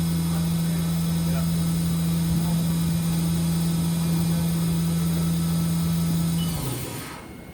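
A HAAS VF-3YT CNC vertical machining center, a 2011 unit with 4th and 5th axis wiring, runs its spindle at 10,000 RPM: a steady loud mechanical whine with constant hum, spinning down and fading near the end.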